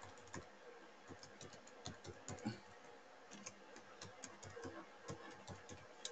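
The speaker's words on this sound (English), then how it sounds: "I'll type in my email address" Quick, irregular keystrokes tap on a computer keyboard as an email address is entered, close and fairly quiet with short pauses between bursts and no voices.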